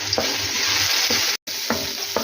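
Cumin seeds and a few black peppercorns sizzle loudly and steadily in hot oil, broken by repeated scraping stirs and one very brief dropout in the hiss.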